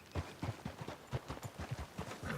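Horse hooves clip-clopping at a steady walking rhythm in Red Dead Redemption 2, close and fairly quiet, about a dozen distinct thuds over a couple of seconds.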